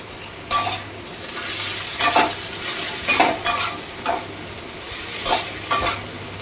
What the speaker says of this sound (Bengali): রসুনটা যতক্ষণ ভাজবো ততক্ষণ না রসুনের কাঁচা গন্ধটা চলে যায়